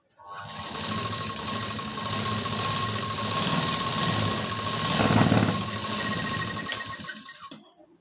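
A sewing machine runs a steady, continuous whirring stitch for about seven seconds while double-stitching tucks on a size 38 blouse, close and fairly loud, with no talking.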